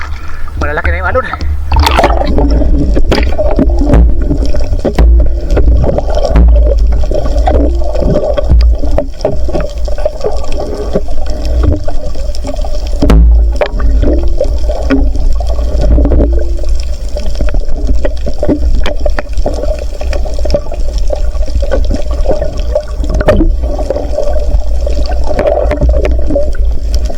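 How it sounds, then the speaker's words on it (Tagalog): Big sea waves wash and surge steadily around a fishing boat, a constant rough roar of water against the hull with deep low rumble throughout, people talking over it. "Malalaki na yung alon"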